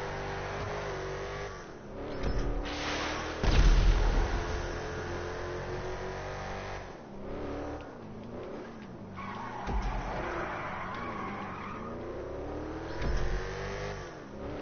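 A car engine in GTA Online revving and accelerating, with rising and falling engine pitch, brief tire skids and thumps, loud and close throughout with no voices.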